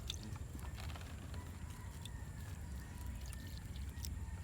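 Water poured gently onto the soil at the base of a freshly planted eggplant seedling, a soft, quiet, continuous trickle over low background rumble.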